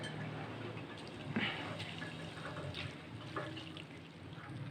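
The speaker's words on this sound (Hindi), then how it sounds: "इसके ऊपर ठंडा पानी डालना है" Cold water is poured over rice for aloo biryani, a steady, faint trickling splash running throughout with a few louder spurts.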